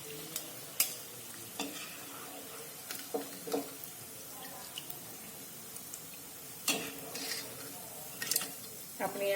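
Bhakharwadi snacks deep-fry in hot oil with a soft, steady sizzle, broken by sharper clinks and scrapes of stirring at irregular intervals, fairly quiet and close.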